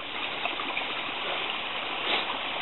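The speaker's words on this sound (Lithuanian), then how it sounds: "Vietoj Verknės upės, radau tokią upę. Tiksliau upelį." A small Lithuanian forest stream flows steadily nearby, giving a continuous close rushing and babbling wash with no pauses and no voices.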